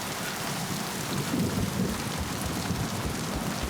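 Steady, heavy rain hisses continuously in the Mass Effect 2 game world, a dense even wash with a low rumbling undertone like distant thunder, no voices present.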